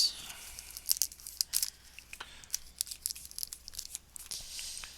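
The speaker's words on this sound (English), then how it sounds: "So we got to shuffle all of our decks." Board game cards for Gloomhaven Jaws of the Lion being shuffled, with crisp riffling snaps and papery flicks in quick irregular bursts, close and fairly loud, with no talking.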